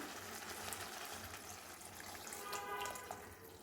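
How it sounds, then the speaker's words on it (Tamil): Tamarind water pours into a cooking pan, a faint steady trickle and splash heard alone for a few seconds in a quiet kitchen. "இப்போ இந்த ஸ்டேஜில் இந்த புளி தண்ணியை கொத்திடலாம்"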